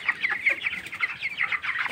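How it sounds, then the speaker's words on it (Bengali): Broiler chickens of about 22 days in a poultry farm shed at night, a close, steady chorus of rapid clucks and chirps repeating throughout with no talk. "দেখুন, এটা মোরগ আর এটা আছে মুরগি।"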